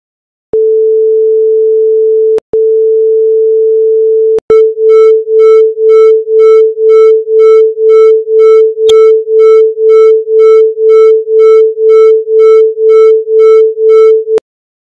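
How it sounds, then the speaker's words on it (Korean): Pure sine tones at 440 Hz and 442 Hz, two steady separate tones followed by both together, producing a loud, even beating pulse at roughly two throbs per second. "440Hz와 442Hz 그리고 두 음을 동시에 한번 순서대로 들어보도록 하겠습니다."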